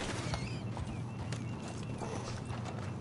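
Horse hooves clip-clopping steadily in Red Dead Redemption 2, with an occasional faint whinny over a constant low ambient rumble.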